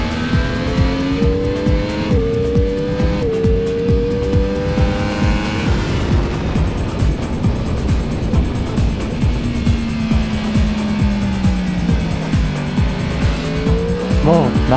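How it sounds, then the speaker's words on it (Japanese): Loud racing motorcycle engines roar and rise through the gears on the Motegi circuit, with a second engine droning close by, continuous and intense. "もう前後ろからブンブンにエンジン音が聞こえる。"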